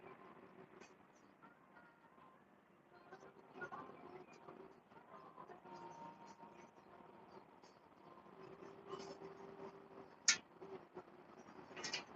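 A train passes faintly in the distance at night, a low steady rumble with a sustained horn-like drone and scattered clicks, quiet and far off with no talk over it.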